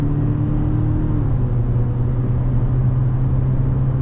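A Mazda CX-90 with a non-turbo four-cylinder engine drives along, its steady low drone and tire rumble holding level and close throughout, with a faint rising tone early on.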